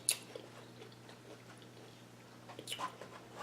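Big soft croutons chewed close to the mic, quiet wet mastication with a few crisper bites at the start and end over a low steady hum.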